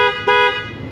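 A 1999 Lincoln's horn sounds during a tire pressure sensor relearn, a loud, harmonic blare lasting nearly a second, with a short double pulse near its start and no voices.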